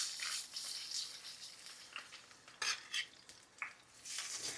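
Seasoned fish filet laid into a skillet of hot olive oil over medium-high heat, a steady close sizzle with bursts of spatter and brief clinks of a utensil against the pan, no talking.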